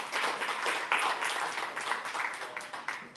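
Audience applause at a summit, a dense steady wash of many hands clapping together throughout, fairly loud and even without pause.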